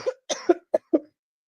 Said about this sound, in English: I got a dry cough and I'm choking on cashews